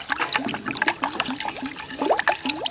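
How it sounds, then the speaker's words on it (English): Water swirling in a coolant anti-spill funnel on a car's cooling system, a close gurgling vortex with repeated bubbly glugs and short rising burbles in an irregular rhythm, no talking. "Now we got our anti-spill funnel full of water. Let's get a vortex going"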